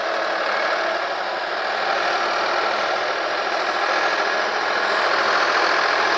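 Trucks and sugarcane-loaded tractor trolleys sit idling in a village traffic jam, giving a steady, loud broadband engine rumble that holds throughout with no pauses.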